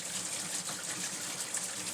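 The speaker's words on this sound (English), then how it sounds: "it will circulate that same water and throw clean water right back out" A recirculating off-grid shower that filters and sprays its own water runs steadily in the woods, a close continuous hiss of falling water with no talk.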